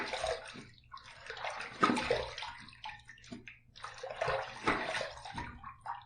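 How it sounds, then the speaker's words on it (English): Water is splashed onto a face at a sink to rinse off shaving soap, with two separate bursts of close, wet splashing and dripping, each fading before the next. "let's rinse."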